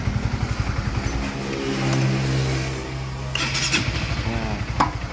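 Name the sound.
Honda CBR 150 motorcycle electric starter cranking engine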